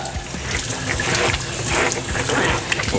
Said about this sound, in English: It's very important to wash your produce and give it a rinse.